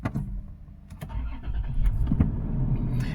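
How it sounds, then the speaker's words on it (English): A 2009 Toyota Land Cruiser 4WD with a rough idle is started: a brief rattle and clicks come first, then the engine cranks and catches into a steady, close rumble that runs to the end. "when I start this car,"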